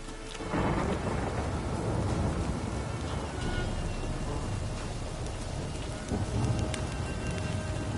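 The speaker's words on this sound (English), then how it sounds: "Rain again." Steady rain pours across an outdoor scene in The Witcher 3 video game, with a low roll of thunder rumbling in after the opening second and another swell near the end, continuous and enveloping with no speech.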